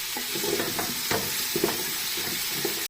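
Vegetables frying in oil in a home kitchen pan while being stirred, a steady close sizzle with soft scraping stir strokes throughout.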